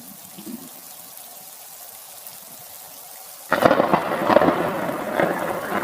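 Cartoon rain and thunder in a forest setting: quiet patter gives way to a sudden loud rumble of thunder with heavy, steady rain continuing afterward.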